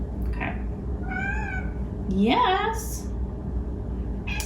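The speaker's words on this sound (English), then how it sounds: "That's my cat again. She wants to be part of the video too." A pet cat meows several times nearby, rising and falling calls with one longer, louder wail in the middle, while a person speaks briefly.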